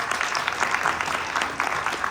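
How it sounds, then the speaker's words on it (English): An audience at a hospitality industry conference gives a continuous round of applause, dense and fairly loud, a steady wash of many hands clapping with no talk heard. "Can we have a big round of applause for these boys?"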